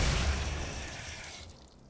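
Stun bomb and rocket launcher blasts in the DOOM (2016) Vega Central Processing level, a loud low boom at the start with a rumbling tail that fades over two seconds.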